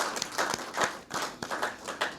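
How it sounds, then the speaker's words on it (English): Quiet, sparse clapping at a government agreement signing for a hospital reconstruction in Saint Lucia, a few distinct hand claps in an uneven rhythm rather than full applause, heard faintly and close. "Another round of applause for our Prime Minister who has brought this home for us."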